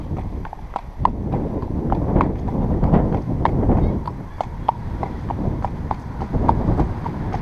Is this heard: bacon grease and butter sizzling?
no